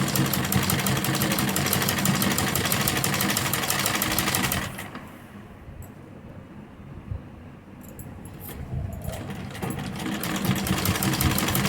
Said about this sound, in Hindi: गले की दूसरी तरफ हम किनारी पर इस तरह से लेस को ऊपर की तरफ रखेंगे और एक सिलाई से इस तरह से अटैच करेंगे।